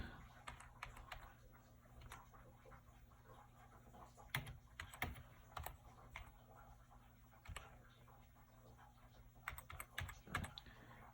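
Typing on a USB computer keyboard connected through a converter to an Apple Lisa: sparse, irregular clicks and clacks of keys at close range over a steady low hum, with a few quick bursts of several strokes.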